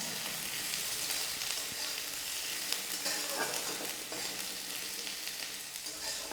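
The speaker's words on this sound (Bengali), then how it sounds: "সেই আদাগুলো তেলে দিয়ে দেবো। দিয়ে এই আদাগুলোকে দিয়ে একটুখানি" Chopped ginger fries in hot oil, producing a dense, continuous sizzle with occasional crackles and stirring scrapes throughout.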